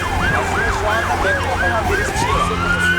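An ambulance siren wails loudly and close by in a rhythmic rising-falling pattern on an İzmir street, with voices talking underneath and traffic rumble beneath it.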